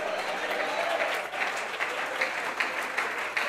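Sustained applause from a church congregation during a sermon, a dense even wash of many hands clapping together, steady and fairly loud throughout.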